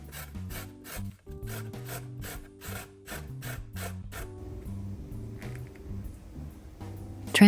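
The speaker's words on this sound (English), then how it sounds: "Grate them using a grater." Two peeled potatoes are rubbed against a grater in quick, evenly spaced rasping strokes. The grating is close and clear, pauses briefly around the middle and carries on alone without talk.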